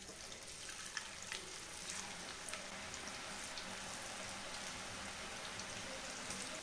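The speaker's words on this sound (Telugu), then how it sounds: "రెండోసారి వేసినట్టు కూడా ఆయిల్లో ఫ్రై అయిపోయాయి" Onion pakoda fritters frying in hot oil, a steady dense sizzle and crackle with scattered sharp pops, close and continuous throughout with no voices.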